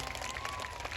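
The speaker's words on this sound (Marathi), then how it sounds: "एकदा हात वर करून जोरदार टाळी होऊन जाऊ" A large audience bursts into a short, dense wash of applause, steady and fairly distant-sounding throughout the brief moment.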